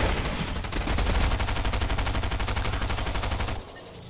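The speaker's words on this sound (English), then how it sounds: "we're getting shot. From somewhere." Rapid automatic gunfire in the Fortnite video game, a steady, loud stream of shots that cuts off abruptly near the end, with no talk.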